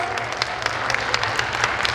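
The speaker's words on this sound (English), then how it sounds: "Big round of applause for being back in the world" An audience at Fan Expo Denver 2021, a fan convention, claps in a steady wash of applause from a crowd filling the room, with dense overlapping hand claps at an even level throughout.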